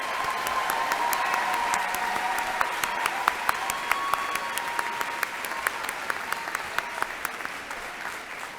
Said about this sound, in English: How about a round of applause for all of our master's graduates?